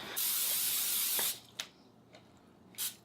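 An aerosol can of cooking grease sprays into a 9 by 13 baking dish in a home kitchen, one long close hiss followed by a few short bursts.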